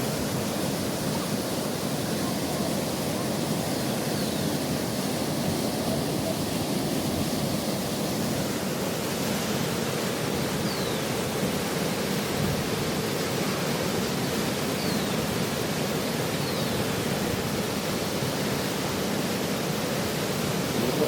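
Water pours over the overflowing Rupavati dam as a continuous, broad roaring rush that stays steady and loud throughout, with no speech over it.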